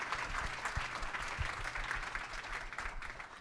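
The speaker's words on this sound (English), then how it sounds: "So if we could all give a big round of applause to our panelists" Audience clapping for panelists after a machine learning panel talk, a steady, fairly quiet patter of hands in a room, even and continuous without cheering.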